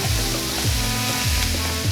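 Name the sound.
ground turkey sizzling with sautéed peppers and onions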